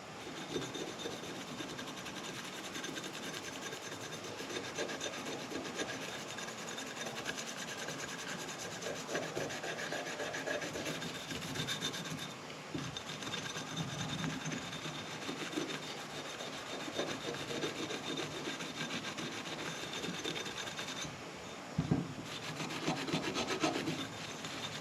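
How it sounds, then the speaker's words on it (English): Continuous abrasive scrubbing of a Scotch-Brite pad over the rusty, dirty surface of an AC compressor after brake cleaner, a steady close rasping rub with brief pauses and no talk. "A little brake clean, a little Scotch-Brite. Clean up that rusty, dirty areas."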